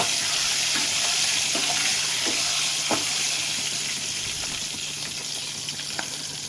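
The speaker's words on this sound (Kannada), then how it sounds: "ಕರಿಬೇವು ಹಾಕಿ ಹುರ್ಕೊಳ್ಳೋದು." Curry leaves fry in hot oil for a tomato pickle, giving a loud, continuous sizzle and crackle that holds steady from start to finish with no voices.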